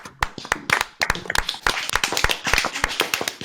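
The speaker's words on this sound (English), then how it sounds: "Gentlemen, give yourselves a round of applause." Contestants on a dating game show clap for themselves in a lively round of close, uneven applause from a small group.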